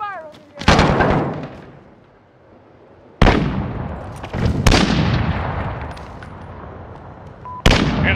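Gunfire in Call of Duty: Modern Warfare, several loud sharp bursts and volleys that each decay into rumbling echo, with a quieter lull between, while in-game voices speak in the background.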